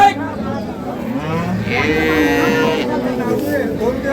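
A dairy cow moos loudly and long at a cattle market, a drawn-out low call close by, with bargaining voices and farm background around it.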